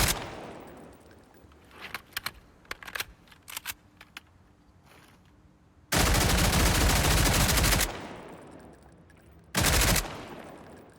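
Short-barreled, non-suppressed Asval rifle firing in SCP: 5K, heard as scattered single shots and brief bursts. Two long, loud sustained automatic volleys follow, all close and with no voices.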